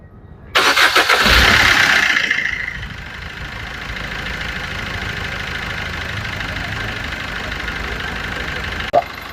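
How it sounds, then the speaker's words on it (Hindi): A Maruti Suzuki Brezza diesel engine cranks and fires after a major service, roaring up loudly for a couple of seconds before settling into a steady, close diesel idle with a brief knock near the end. "अभी गाड़ी स्टार्ट हो गई"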